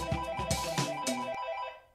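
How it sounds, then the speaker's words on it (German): A telephone rings in short electronic bursts, fairly close and loud, before the tone cuts off and fades. "Telefon."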